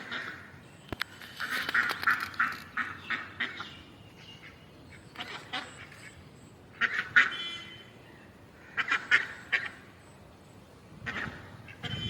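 Several ducks quacking nearby in irregular bursts, with short pauses between the calls outdoors at a resort in Mandarmani.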